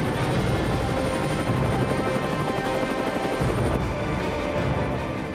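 Indian military Chetak helicopters flying with a detachment of infantry aboard: a loud, steady rotor drone with rhythmic chopping runs throughout, close and unbroken, with no voices.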